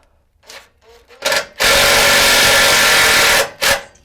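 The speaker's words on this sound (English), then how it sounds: "I'm using my impact drill to give us a little help." An impact drill driving bolts into a Toyota 4Runner frame whirs in a brief start, then runs loud and steady for about two seconds before stopping, with a short final burst.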